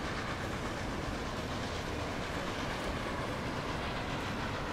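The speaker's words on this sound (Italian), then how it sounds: "Il treno da Innsbruck è arrivato." Train arriving at a station in the rail-building game Transport Fever, a steady, loud rumble of wheels and carriages with clickety-clack and a faint hiss, continuous throughout with no talking.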